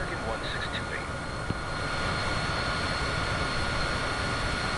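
Steady broad roar of an airliner taking off in Microsoft Flight Simulator 2024 on PS5, a continuous loud engine wash with a few faint high tones and a tiny click, no clear change in level throughout.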